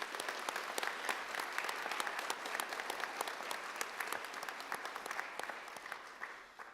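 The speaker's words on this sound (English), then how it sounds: "a huge round of applause for our clinical affiliates." Steady applause fills a sonography pinning ceremony for health sciences graduates, a crowd clapping continuously at moderate distance and fading slightly toward the end.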